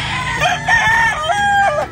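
A lemon roundhead gamefowl rooster crows once, a loud, close, wavering cock-a-doodle-doo lasting about two seconds.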